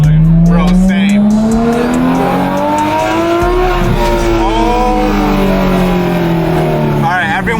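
A Porsche 911 GT3 RS with the Weissach package revs its engine hard, a loud, close, rising and falling high-pitched wail that holds steady across the whole stretch with no talk over it.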